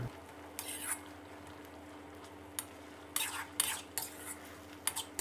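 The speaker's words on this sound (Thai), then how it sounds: "ใส่ลงไปเลยครับแล้วก็ผัดให้เข้ากันนะครับผัดจนเห็ดของเราสุกเลยนะครับ" Oyster mushrooms being stir-fried with sauce in a pan give off intermittent scraping and clinking of a utensil against the pan, in short irregular bursts over a quiet, steady background hiss.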